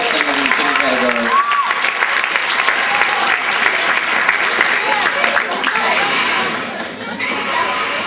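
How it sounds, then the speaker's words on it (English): Warm audience applause for singing contestants at a school event, loud and sustained, with cheers and a few shouting voices mixed into the clapping. "Ladies and gentlemen, another warm round of applause for all the singers in the singing category."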